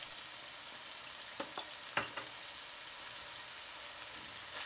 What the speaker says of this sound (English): Mix everything well to ensure that all the meat is coated with the sauce.